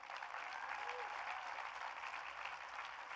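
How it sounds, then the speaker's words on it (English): Steady applause from a convocation audience for a university African music ensemble, a continuous even patter of many hands at moderate distance with a faint tone briefly sounding beneath it. "Let's give another big round of applause for LMU's African Music Ensemble"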